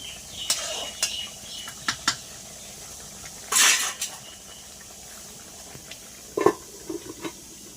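Metal clinks and clatter of a cooking pot of meat being covered with its lid, a few sharp separate knocks spread out over quiet kitchen background, with one brief louder scraping burst partway through.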